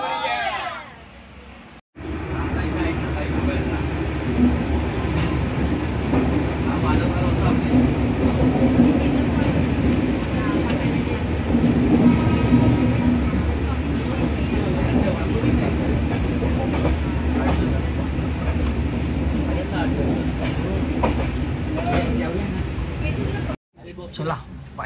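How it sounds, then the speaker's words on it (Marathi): A train pulls away and runs along the rails on a journey in Goa, with a steady rumble and rhythmic clatter throughout, heard from on board with crowd noise and voices around. "आता जस्ट आता सुटले पेटीवरनं ट्रेन"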